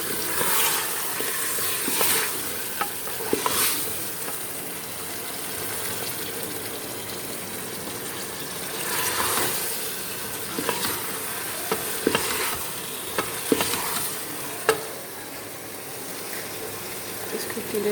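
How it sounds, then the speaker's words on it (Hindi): Mutton pieces frying in a pan for a Peshawari namkeen gosht, a steady sizzle running throughout with occasional scraping and clinking of a spoon stirring the meat, while someone talks over it. "इसको इतनी देर आपने भूनना है तब कलर गोश्त का थोड़ा चेंज होता है।"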